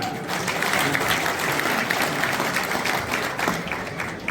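An audience at a Haryana political event with a cooperative minister claps loudly to welcome a guest, a dense, sustained burst of applause filling the whole stretch, close and steady with some crowd noise mixed in.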